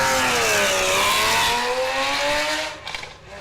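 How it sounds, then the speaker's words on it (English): Loud race car engine roaring at the starting line of a 110-mile-an-hour class land speed event in Arnold, Nebraska, holding a rising and falling rev for several seconds before dropping off sharply near the end, with no talk. "one of the loudest cars, the loudest car for sure."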